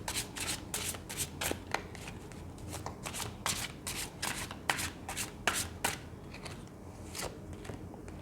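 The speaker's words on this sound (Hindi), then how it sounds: "जब तक मैं कार्ड शफल कर रही हूँ" Tarot cards being shuffled by hand at close range, a steady run of soft riffling flicks and slides continuing throughout without speech.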